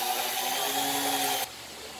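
A power grinder bites into a wooden keychain blank, carving a dark divot between slats, making a loud steady abrasive whine for about a second and a half that cuts off abruptly into quieter room tone.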